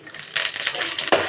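Curry leaves dropped into hot oil with chana dal, peanuts and urad dal for a tempering sizzle sharply in a pan, a close, brief burst of crackling frying noise that swells partway through.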